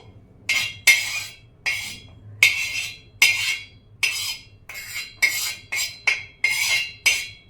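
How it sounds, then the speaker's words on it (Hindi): Roasted tea masala spices being tipped and scraped into a mixer jar, with about a dozen sharp clinking taps and rattles of spoon or pan against metal in an uneven rhythm, close and fairly clear, with no talking. "फटाफट इसको भी मिक्सर जार में आप ट्रांसफर कर दीजिए"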